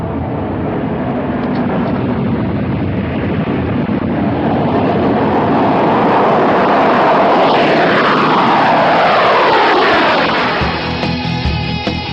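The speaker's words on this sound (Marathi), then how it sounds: "बालपणीच्या स्वप्नातलं विमान विद्यार्थ्यांना साक्षात पाहता आलं" A loud Indian Air Force airplane engine roars steadily and then sweeps past nearby with a rising, shifting whine, fading into a lower rumble at the end, at an air force anniversary display.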